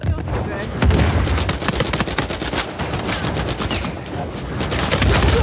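Rapid, dense automatic gunfire rattles nonstop in Uncharted 4 multiplayer, loud and close, with booming impacts mixed in and a voice speaking over the shooting.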